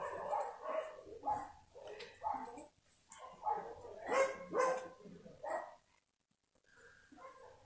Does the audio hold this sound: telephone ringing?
no